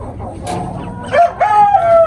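A Java fighting rooster gives a short, strained crow-like call in the second half, fairly close over background farmyard noise and low rustling.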